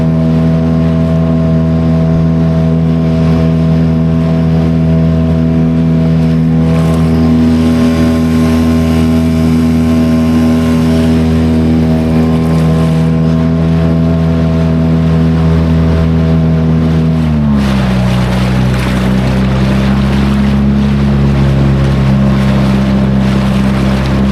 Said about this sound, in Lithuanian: Taigi, varome laivelį.